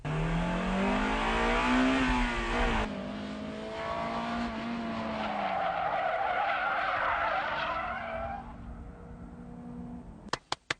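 A front-wheel-drive car skids under braking on a test course, a long tire squeal with a sweeping engine note that fades over several seconds, followed by a few sharp clicks at the end.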